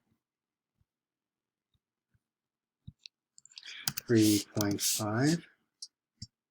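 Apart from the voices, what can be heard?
typing on a keyboard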